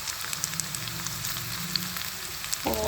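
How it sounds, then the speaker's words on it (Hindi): Finely chopped large tomatoes hit lightly browned, softened onions in a hot pan for baingan bharta, a steady quiet sizzle running throughout, then a sudden louder clatter and burst of frying near the end. "अब हम इसमें डाल देंगे 2 बड़े साइज़ के टमाटर"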